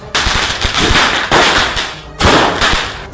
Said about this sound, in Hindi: पुणे में तो इतनी आतिशबाजी हुई कि आसमान में रोशनी छा गई